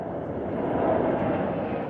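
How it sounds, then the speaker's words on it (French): A water tanker aircraft fighting the Los Angeles wildfires produces a steady, loud engine roar that holds without a break. "Ces avions citernes sont très efficaces, mais seulement si les conditions météo sont optimales."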